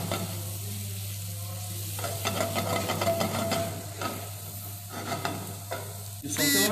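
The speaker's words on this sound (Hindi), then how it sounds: "अब हम इसे स्लो फ्लेम पे सौते करते हैं।" Onion and mixed herbs sautéing on a slow flame, a soft sizzle broken by bursts of scraping stirs and clatter, close, with a low hum underneath and a louder clatter at the end.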